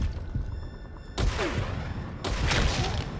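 Gunfire in Metal Gear Solid V during reflex mode headshots: bursts of loud, dense shots with sharp booms and a sudden heavy volley at about 1.2 s, then another near 2.2 s, over low rumble.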